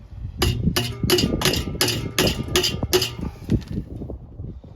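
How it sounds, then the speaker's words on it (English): Sharp metallic hammer strikes ring out on the Borla ATAK exhaust of a 2021 Mustang GT, about eight close, evenly spaced clanks followed by a few softer knocks as the blows trail off, with no speech. "that little bit of hammering gave it just enough"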